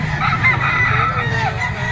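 A young yellow-legged gamecock stag crows at a rooster grotto, a close, strained call rising over a noisy background with other birds and people.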